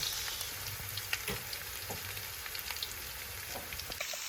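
Minced garlic and onion sauté in hot oil, giving a soft, steady frying hiss with small crackles and a few light taps of a utensil. The sound is fairly quiet and close.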